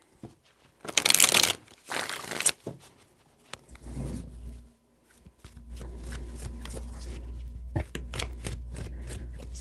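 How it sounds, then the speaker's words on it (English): Tarot cards being shuffled at close range in three bursts: a loud, crisp riffle first, then softer shuffling sounds over a low background hum. "Three shuffles."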